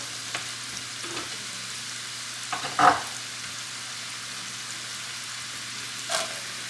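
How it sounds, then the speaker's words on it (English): Chopped mushroom stems and shallot sauté in a pan over medium-high heat, giving a steady, even sizzle with a faint hum beneath and a few brief clinks and stirring knocks. "this is going to saute on a medium-high heat"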